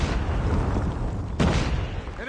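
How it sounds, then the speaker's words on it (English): A predator missile detonates in Call of Duty Mobile with a sudden loud boom that stands out over continuous gunfire and game noise, then trails off. Voices talk through the scene. "Predator missile inbound."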